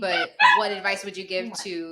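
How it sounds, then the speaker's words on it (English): A dog barks in a few quick, high yipping bursts close by, overlapping someone speaking indoors. "That's my dog."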